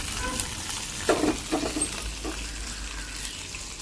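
Dried red chillies and curry leaves hit hot oil, giving a soft, fairly quiet crackling sizzle with a couple of brief louder spits, no one speaking.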